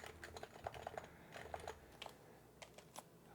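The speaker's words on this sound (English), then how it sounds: "like a stock HHKB, if it's not silenced, it can sound quite hollow and plasticky" Typing on a silenced HHKB Topre keyboard in an aftermarket CNC aluminum case gives a run of soft, muted keystrokes at an uneven pace, fairly quiet and close, with no voices.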